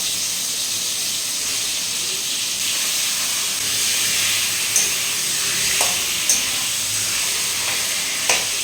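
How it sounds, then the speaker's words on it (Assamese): Chicken pieces fry with spices in a hot pan, giving a steady, dense sizzle and hiss throughout, broken by a few faint clicks of stirring. "চিকেনখিনি ফ্ৰাই হৈ আছে"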